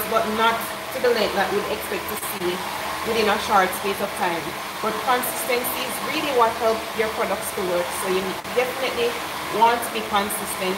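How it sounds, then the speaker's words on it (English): A hair blow dryer runs steadily in the background at a salon while braids are being done, a constant whooshing hum under a woman's continuous speech. "My coworker is using our blow dryer."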